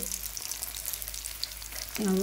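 Delicate fried pieces being gently turned in a pan of oil, a brief steady sizzle close by, with a short voiced sound right at the end.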